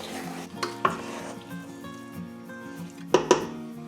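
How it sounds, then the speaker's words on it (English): Backyard mulberry jam is stirred in a pot, giving a soft bubbling simmer with a couple of sharp spoon knocks against the pot's side, close and fairly quiet. "Give it a good mix."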